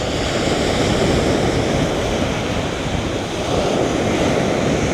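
Ocean surf at a beach in Hawaii roars steadily and loudly up close, a continuous washing rush of breaking waves with a faint wind-like hiss and no voices.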